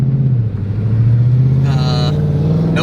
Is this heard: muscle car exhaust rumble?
yes